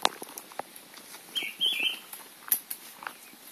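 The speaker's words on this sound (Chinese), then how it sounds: "有小鸟在叫哦。" Small birds chirp on Malun Mountain after rain, a few brief high tweets and faint rustling scattered over a quiet forest background.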